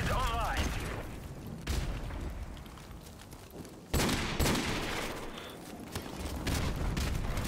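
Rapid bursts of gunfire and explosive booms from the Call of Duty Modern Warfare Remastered multiplayer game, with sharp loud onsets near the start, middle and end, mixed with faint voices.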